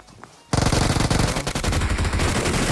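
Loud, dense automatic gunfire from the PUBG Mobile battle royale game erupts after a brief quiet start, a sustained rapid burst of shots filling the rest of the moment.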